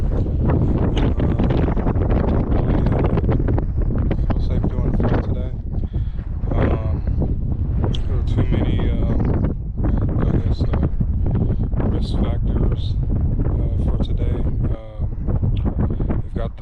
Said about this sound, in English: the wind's crept up a lot more since I first got here